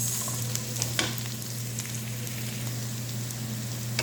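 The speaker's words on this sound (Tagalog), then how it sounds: "Hanggang magiging golden brown ang ating sibuyas." Chopped onions fry steadily in hot oil until golden brown, a continuous close sizzle with a low hum beneath and a few light stirring clicks, no voices.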